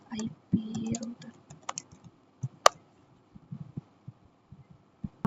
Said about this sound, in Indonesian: Ini saya tadi mengetik perintah ini.